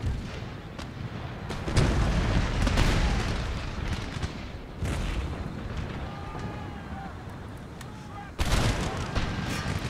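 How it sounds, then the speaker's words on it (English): Cannon artillery fire in a Total War battle game, several heavy booms with rolling echoes and crackling musketry beneath, some shots loud and close, others distant, while a player talks over the gunfire. "Cannons are doing an awesome job."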